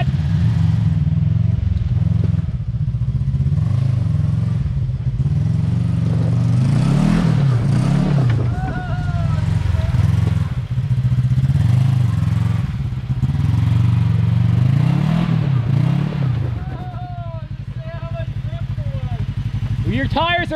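A Polaris RZR Turbo side-by-side engine revs and labors loudly on a wet rocky mountain trail, rising and falling in surges with mechanical clatter, while people talk over it.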